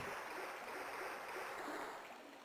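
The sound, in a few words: water splashing in Resident Evil 2 video game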